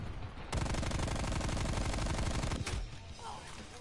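A high-recoil gun in a multiplayer video game fires one long, loud burst of rapid automatic shots lasting about two seconds, then stops.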